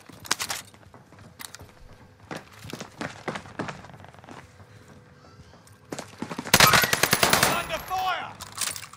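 Scattered single shots and short bursts of gunfire in a video game battle lead up to a loud, rapid automatic volley close by, with thuds and movement noises in between.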